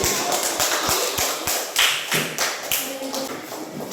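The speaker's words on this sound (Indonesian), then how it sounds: "tepuk tangan untuk Suci" Classroom of third- and fourth-grade students applauding a classmate, sparse uneven claps and taps close by, loosening into a scattered rhythm over a few seconds.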